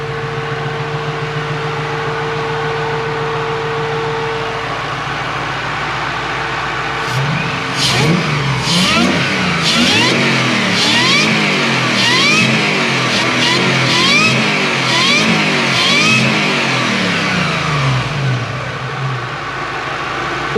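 A supercharged 1UZ V8 with an M90 blower, fitted in a Toyota Prado, cranks and fires after a steady low hum, then settles into a running idle with rising and falling revs, close and loud.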